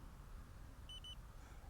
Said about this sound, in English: I just heard the beep for confirmation, so it's working.